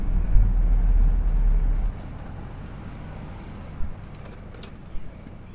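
Manual car engine holding steady at about 2000 rpm in fourth gear near 40 km/h, a low rumbling drone heard from inside the cabin that eases off partway through, with a couple of faint knocks.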